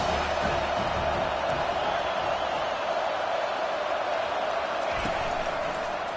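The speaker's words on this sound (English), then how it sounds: "Decibels rising as the crowd gets behind this defense on 3rd down." A football stadium crowd at a Michigan vs Penn State game roars behind the defense on third down, a dense, sustained wall of cheering noise that holds steady throughout.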